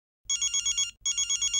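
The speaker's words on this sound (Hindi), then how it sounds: "प्रेम का फोन है, अपने फोन में फोन कर रहा है" A phone ringing with an electronic trill, two loud bursts of rapid pulsing tones separated by a short gap, near and clear with no other sound.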